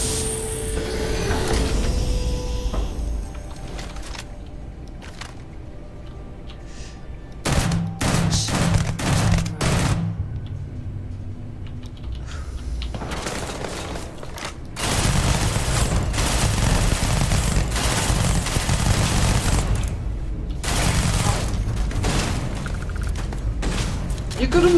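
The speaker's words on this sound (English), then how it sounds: "You got a minigun, woman." A minigun in the Starfield video game fires in rapid, loud bursts separated by short pauses, with voices talking between the volleys.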